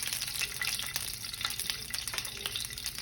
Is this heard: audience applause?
no